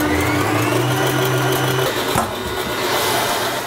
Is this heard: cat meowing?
no